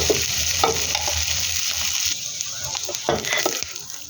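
Vegetables for pancit stir-fry in a hot pan, with a loud, steady sizzle and repeated scraping and tossing of a spatula close by, and no talking.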